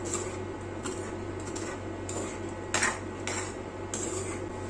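Fish curry with fenugreek powder stirred in a pot, a spoon scraping and clinking against metal in repeated strokes over a steady low background hum, with no talking.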